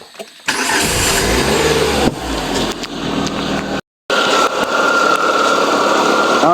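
A Proton Persona car engine cranks and catches, then settles into a steady, loud idle close by, with a brief dropout midway before the running engine continues.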